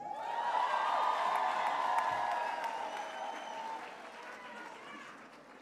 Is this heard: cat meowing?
no